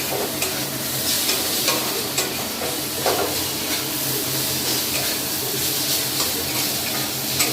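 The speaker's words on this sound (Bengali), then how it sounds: "এখন আলু ভাজছি" Potatoes fry in a home kitchen pan with a steady, close sizzle and occasional stirring scrapes and clinks, with no talking.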